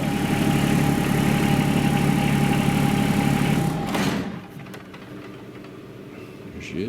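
A 2019 John Deere X758 4x4 diesel garden tractor idles with a steady, loud, droning chug that winds down and stops around the midpoint, leaving faint background sounds.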